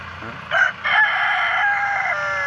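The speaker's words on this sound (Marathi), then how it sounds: "बघा कसा आरवतो" A free-range desi rooster crows once, close and loud, a strong drawn-out call that starts with a short rise, breaks briefly, then carries on steadily to the end with no voices over it.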